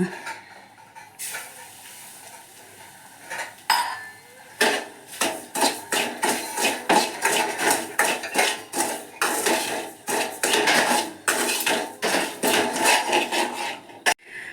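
A spoon scrapes and knocks rhythmically against a metal pan as semolina roasts in ghee, repeated close clatters over a low background.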